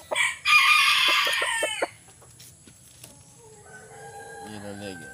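Pumpkin Sweater rooster, a yellow-legged backyard breeder bird, crows once loudly and close for about two seconds, ending in a few sharp clucks, followed by quieter chirping and a faint voice in the background.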